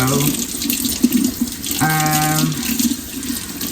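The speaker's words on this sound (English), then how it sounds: "cooking right now, cleaning chicken, y'all. So that's what y'all about to hear" Tap water runs steadily into a sink, splashing over raw chicken being rinsed beneath the stream, with brief tonal squeaks partway through.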